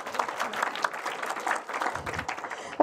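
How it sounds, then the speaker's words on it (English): Steady applause rises from the audience at the 2023 B'Oscar Awards film festival ceremony, a dense patter of clapping that carries through with no break. "Yeah, round of applause for the art."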